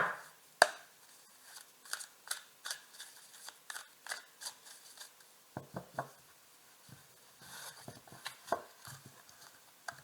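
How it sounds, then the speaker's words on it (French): Tarot cards are shuffled close by, producing a string of crisp, irregular snaps and riffling taps against a quiet background. "je mélange les cartes"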